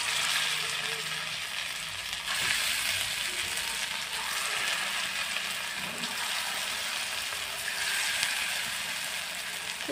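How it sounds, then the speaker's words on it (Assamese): Bottle gourd leaf pakoras fry in hot oil with a steady, dense sizzle that holds evenly close by for the whole stretch, with no talking over it. "মই বাকীকেইটাও এনেদৰে ভাজি ল'ম"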